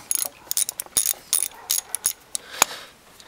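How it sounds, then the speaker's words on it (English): Ratchet wrench with a 10mm socket and long extension clicking through short bursts while backing out a Ford Ranger intake manifold bolt, close up and fairly quiet, with metallic ticks scattered across the moment. "To take the bolts off, I'm using a 10mm socket with a long extension."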